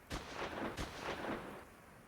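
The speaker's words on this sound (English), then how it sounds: "they heard gunshots" Gunshots as a sound effect in an audiobook, two distant booming reports about half a second apart that rumble and fade, faint and with no voice over them.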